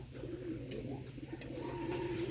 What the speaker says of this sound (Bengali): এই দেখুন বোম্বাই কবুতর কি সুন্দরভাবে ডাকাডাকি